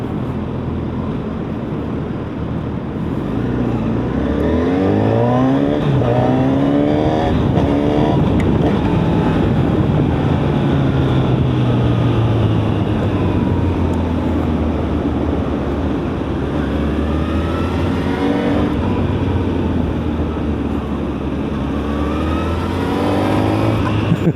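A 2025 Honda Hornet 1000 motorcycle accelerates hard through its gears, the engine note climbing and dropping with each shift, loud and close with wind roar over a long continuous run.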